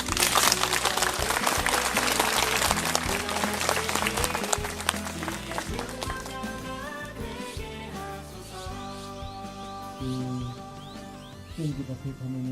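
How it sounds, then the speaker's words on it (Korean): Audience applause for a monk at the Nabawi pilgrimage shrine, a dense burst of clapping at the start that fades into music and a speaking voice. "박수 한번 주십시오"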